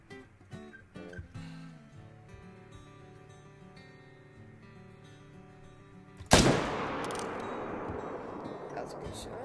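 A single loud rifle shot in a hunting video game, booming and echoing after a stretch of soft ambient music and muffled rustling, its rumble trailing off slowly.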